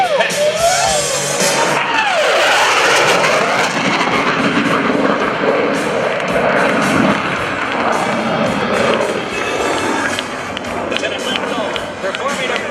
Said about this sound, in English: He's powered up. The throttles are full. And we're almost ready for the afterburners.